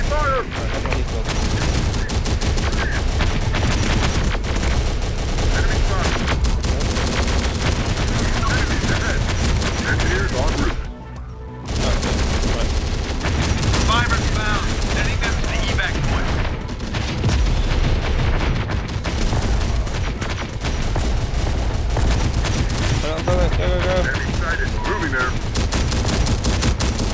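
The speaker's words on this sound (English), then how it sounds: "Enemy fire! Enemy fire!" Intense enemy gunfire in the video game Terminator Dark Fate Defiance, dense loud volleys of automatic fire and booms rattling almost continuously, with a brief lull midway and game voices shouting over the battle.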